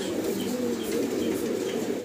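Pigeons cooing at a pigeon farm: a dense, continuous wash of many low murmuring coos, steady and fairly close, with faint chirps and rustling woven through and no talking.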